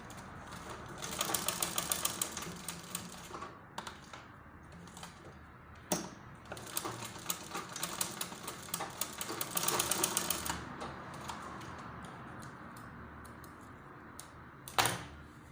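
Sewing machine stitching fabric for a butterfly gown, in irregular short runs and bursts with clicks and pauses, close and moderately loud, no talking.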